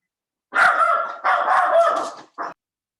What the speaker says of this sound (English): The mailman came and the dog freaks out, of course, right?